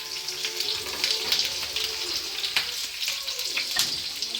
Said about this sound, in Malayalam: വെളിച്ചെണ്ണ പൊട്ടിത്തെറിക്കുന്നു